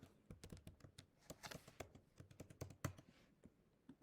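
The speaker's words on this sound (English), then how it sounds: "and you type it in" Keys tapped one after another on a computer keyboard while a PIN is entered into an online property tax appeal form, producing a quick, irregular run of close, crisp clicks with no talking.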